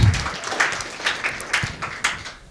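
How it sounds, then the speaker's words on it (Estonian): Warm audience applause at a 2017 Skills Year event at the Viljandi vocational training centre in Estonia, heard as a steady patter of clapping with rhythmic surges, close and moderately loud. "teeme hästi sooja aplausi"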